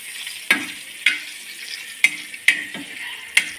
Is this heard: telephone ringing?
no